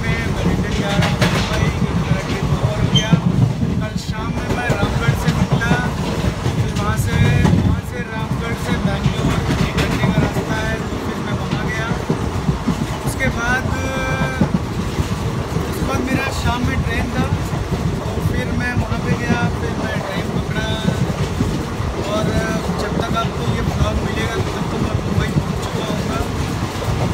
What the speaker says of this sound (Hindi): आप ट्रेन में बैठे जा रहा हूँ